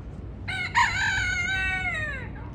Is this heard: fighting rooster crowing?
yes